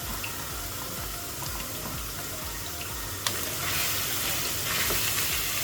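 Boiled chicken breast pieces sautéing with onions in a pan make a continuous close sizzle, with a sharp clack partway through and a slightly brighter, busier frying sound afterward; no voices.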